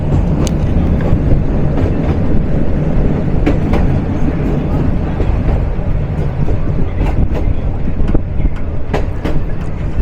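A commuter train pulls into Melandah Bazar railway station near Jamalpur. A heavy, continuous rumble close by carries repeated sharp clanks and rail clatter, with no voices.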